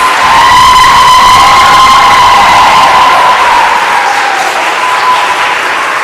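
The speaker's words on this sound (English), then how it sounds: "Let's give a round of applause." A school crowd at a Lutheran Schools week event breaks into loud sustained applause with cheering and children's shouts mixed in, continuous and close throughout.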